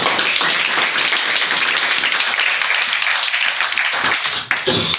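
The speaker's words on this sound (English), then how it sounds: "First, a round of applause." After a business talk on scaling Holacracy, the room bursts into loud, dense applause, a continuous hiss of many hands clapping close and even before it thins and breaks off near the end.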